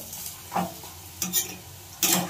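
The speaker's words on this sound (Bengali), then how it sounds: "একটু তেল দিয়ে আস্তে আস্তে ভাজতে হবে" Fritters made from prawn stalks fry slowly in a little oil with a soft, steady sizzle. A few stirring and scraping strokes rise briefly above it, close by and fairly loud.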